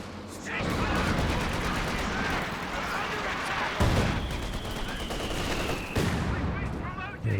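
Mortar impacts and steady gunfire on a Company of Heroes 2 battlefield during a 2v2 match, a continuous dense crackle of shots with a few heavier thumps, kept fairly low under a commentator talking throughout.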